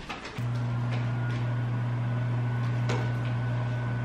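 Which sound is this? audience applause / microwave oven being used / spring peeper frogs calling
microwave oven being used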